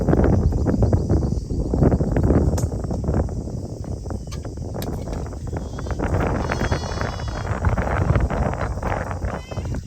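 Wind blowing outdoors in a rice field, a steady rushing roar across the whole stretch, with people speaking Thai or Lao underneath the gusts.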